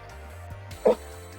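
A single sharp dog bark rings out close by, brief and loud, with a faint voice-like murmur and quiet background before and after.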